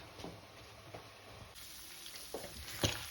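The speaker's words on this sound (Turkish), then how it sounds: "Şu an kıymamızı kavuruyoruz" About half a kilo of minced meat sizzles softly in a pan. A faint, steady frying hiss is broken by a few light clicks and scrapes from stirring.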